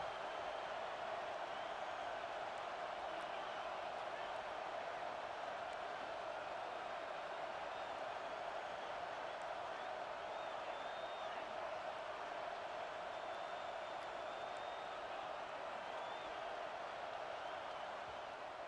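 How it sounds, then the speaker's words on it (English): Stadium crowd in EA Sports College Football 26 roaring during a red zone defensive stand, a steady, dense wall of cheering and noise that holds at full level throughout with no breaks. "And here comes the noise. This crowd is trying to inspire this defense to make a big red zone stop."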